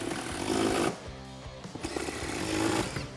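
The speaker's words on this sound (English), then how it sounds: "So now we're going to tighten the front bolts down." Power tool tightening the front seat bolts on a 1979-2018 Ford Mustang during a Corbeau seat install, giving two loud bursts of harsh mechanical buzzing with a short lull between.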